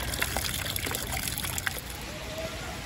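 Water runs from a pipe outdoors in winter, a continuous close trickling splash with light irregular drips, steady throughout without speech.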